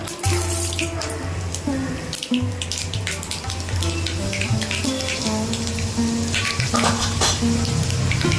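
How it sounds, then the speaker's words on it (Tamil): Mustard seeds and fenugreek hit hot oil for a spicy fish kuzhambu, a crackling sizzle mixed with running-water-like hiss and small pops throughout, close and steady, with no talk. "எண்ணெய் நல்லா ஹீட் ஆகி வந்ததுக்கப்புறம் கொஞ்சம் கடுகு, வெந்தயம்,"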